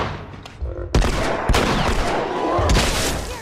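Rapid gunfire aimed at the Bloater in The Last of Us game, a string of heavy close shots with sharp cracks at intervals over continuous rumbling blasts and a raised voice.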